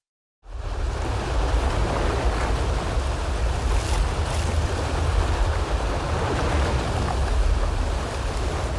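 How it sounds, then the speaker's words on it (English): A swollen Dunière river rushing between rocks and churning in whirlpools, a steady, dense roar of water that starts abruptly and holds constant throughout, with no voices. "The roar of the water echoed through the valley."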